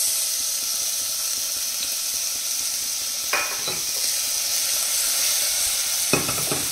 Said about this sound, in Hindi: धीमी गैस पे हमको इसको भूनना है